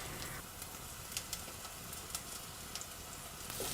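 Spinach frying in a pan, a soft, steady sizzle with faint scattered pops and ticks throughout.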